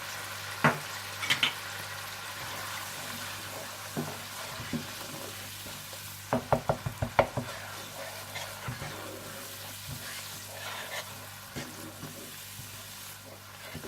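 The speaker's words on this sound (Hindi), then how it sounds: "अदरक लहसुन, सूखी मिर्च पाउडर, साबुत जीरा, पिसी सौंफ और नमक डालकर अच्छी तरह से भून लें" Ginger, garlic, dried chili powder, whole cumin, ground fennel and salt sizzle quietly in a pan for pulao while a spoon scrapes and stirs in short bursts, with a cluster of clinks and taps midway.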